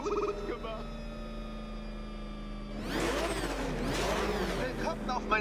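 A race car on the Riddler's track in the video game Batman: Arkham Knight, a rising engine whir and rush joining a droning musical background, loud and close, with speech over the top.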